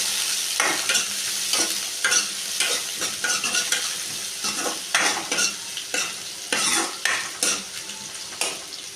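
Onions frying in hot oil for a potato kurma, stirred steadily with a utensil: a continuous close sizzle broken by regular scraping strokes against the pan, no talking.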